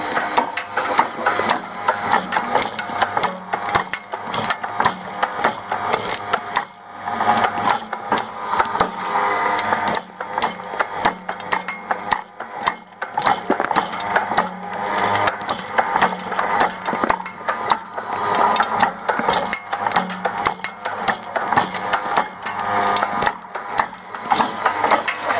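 A gasoline granule generator machine, the faster V2 version, runs nonstop with a dense, steady mechanical rattle and whir, busy clicking and knocking throughout, loud and close with no voices.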